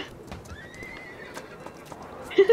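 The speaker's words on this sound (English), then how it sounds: "Horse on the train. I repeat, there's a horse on the train." Horse neighing in the Roblox Wild West game, a faint rising whinny over busy game noise and hoofbeats, with a voice talking nearby.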